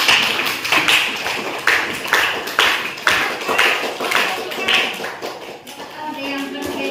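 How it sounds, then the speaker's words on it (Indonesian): A crowd clapping in bursts, sharp claps rising and falling in waves, with voices audible underneath. "Beri tepuk tangan dulu."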